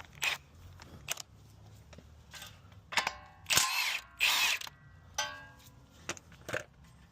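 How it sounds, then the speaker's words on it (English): An impact wrench with a 21mm socket works on the front steering of a 2013 Ford F250 6.7 Powerstroke, firing in short bursts of hammering whirr between sharp clicks and tool clatter, close by. "Grab our impact with our 21mm socket."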